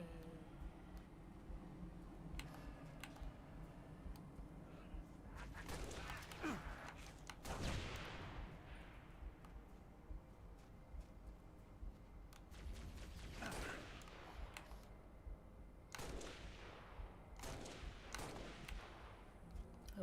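Sniper rifle shots ring out in the Halo video game, a handful of loud, sharp reports spaced several seconds apart over constant game noise and mechanical clatter.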